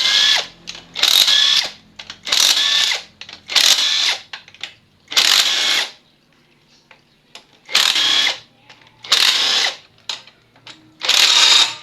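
A power tool whirs in repeated short bursts, loosening the 8mm clutch bolts on a TMX 155 motorcycle, loud and close with brief quiet gaps between pulls.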